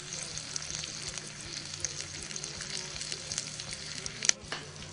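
Steady sizzling and crackling of shrimp frying on a coffee pot's hot plate, a continuous hiss with occasional pops, close by.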